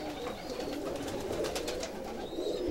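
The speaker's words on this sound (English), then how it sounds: "And this is a Polish high flyer." Polish high flyer pigeons coo softly in low, rolling murmurs in a loft, several birds at once, with faint chirps and rustling in the background.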